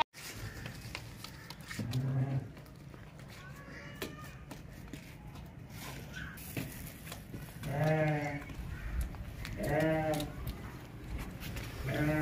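Sheep and goats at a livestock market, including a lop-eared sheep and a young lamb, bleating repeatedly and nearby, with several wavering calls spaced a few seconds apart amid shuffling and background noise.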